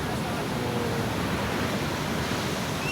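Steady broadband wash of surf rolling in, continuous and fairly close, with a faint murmur of voices in the background.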